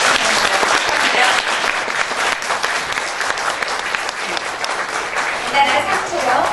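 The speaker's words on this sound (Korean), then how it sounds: "여러분 축하의 박수 드려주시기 바랍니다" Steady, dense audience applause fills a 2011 Korea Brand Awards ceremony hall after the presidential prize goes to KT, continuing without a break at even loudness.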